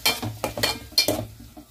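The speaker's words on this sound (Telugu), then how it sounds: "ఉల్లిపాయలు వేగిపోయాక టమాటాలు కూడా వేసేసి చక్కగా కలిపేసుకోవాలి." A spoon stirs tomatoes into onions frying in a pan, making several quick scraping strokes over a soft sizzle, close and fairly loud.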